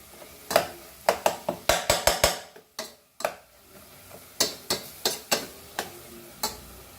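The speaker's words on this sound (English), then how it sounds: "Fry the masala properly, and at this point we add salt to taste." Masala for Goan chicken curry being stirred and fried in a pan, with a run of sharp clacking spoon or spatula strikes against the pan in quick bursts over a faint sizzle.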